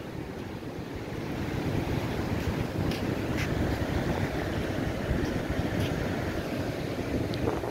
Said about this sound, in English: Come on, get away from the waves.